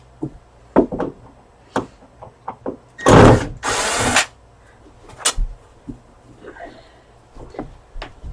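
A power drill backs screws out of the rear casing of a Samsung UN65FH6100 LED TV during a backlight repair, with two sustained whirring bursts among scattered clicks and handling knocks, close up.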